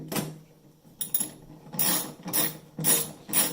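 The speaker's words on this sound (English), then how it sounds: "Ratchet it on, I guess." A hand ratchet tightens bolts and 10mm nuts on a flight simulator frame, giving several short bursts of rapid clicking separated by brief pauses, close and moderately loud.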